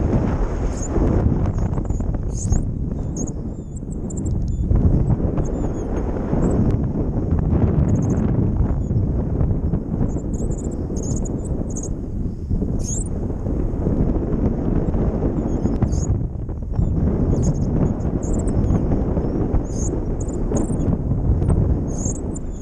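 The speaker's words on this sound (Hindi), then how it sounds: "बस तेज़ हवाएं चलने की आवाज़ें आ रही है इसमें से।" Strong wind roars steadily across the microphone during a paragliding flight over the Manali and Kullu valley, a loud continuous buffeting rush that swells and dips in gusts for the whole stretch, with no talk.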